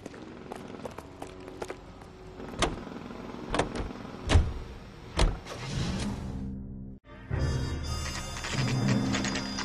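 Car interior sounds from the L.A. Noire driving game: a door thunks and clicks, a few sharp knocks and shifts, then an engine starts and settles into a steady running hum, close and moderately loud.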